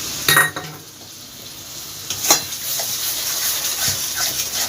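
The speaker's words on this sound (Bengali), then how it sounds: "মশলাটা এবার কষিয়ে নেব" Masala sautéed in a pan with tomato paste and water poured in, giving a soft continuous sizzle with a few sharp spoon scrapes and clinks near the start and middle.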